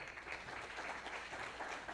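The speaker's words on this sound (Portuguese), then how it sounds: "Uma salva de palmas para ele." An audience applauds a speaker being welcomed onto a stage, a steady, fairly quiet patter of many hands clapping at once, heard from some distance without talk.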